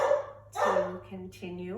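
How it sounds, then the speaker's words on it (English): A dog barks repeatedly in the background, three or four sharp yapping barks close together, while an instructor keeps speaking through a calm yoga class. "we may hear a dog barking in the background"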